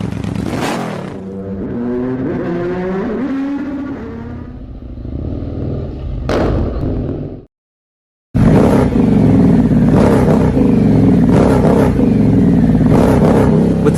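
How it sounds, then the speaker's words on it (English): Harley-Davidson Pan America 1250 motorcycle with aftermarket exhaust revving hard, loud rising and falling engine sweeps, a brief silent gap, then a dense roaring rev with sharp throttle blips, close and without talk. "today I'm going to show you some proper exhausts"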